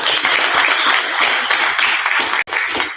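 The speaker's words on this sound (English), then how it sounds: "David Jones, everybody give him some applause, please." A room full of people at a Rotary Club of Tyler meeting claps in loud, sustained applause that fills the space evenly, with a brief dip near the end before the clapping swells again.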